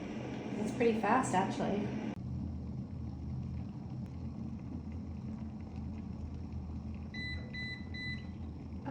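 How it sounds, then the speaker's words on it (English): Water heats toward a boil in a portable electric travel kettle, a steady low rumbling hiss that continues after a brief spoken comment, followed by a few short electronic beeps near the end. "You can hear it. It's starting to boil."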